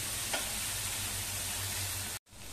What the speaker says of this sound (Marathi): आणि चांगलं परतवून घेऊया.